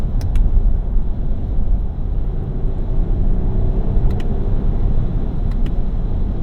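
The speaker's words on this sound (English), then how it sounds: "Transmission does take its time shifting." Heard from inside the cabin, a Lexus GX 550 with a V6 gives a steady, loud low rumble as it accelerates smoothly through its gear changes, with a few faint clicks and no voices.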